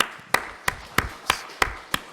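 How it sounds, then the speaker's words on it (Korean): Six evenly spaced sharp claps in a church service, each one a single crisp hand-clap strike with quiet room tone between, fairly faint and close, with no talking. "우리 열심히 읽고 계신 분들에게 우리 응원의 박수"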